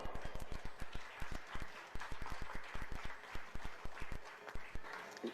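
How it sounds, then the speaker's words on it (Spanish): Scattered claps from a small audience at a national educators' workshop, a sparse, uneven patter of individual hands rather than a full roar, steady throughout with no voices on top. "a quien le pido un fuerte aplauso"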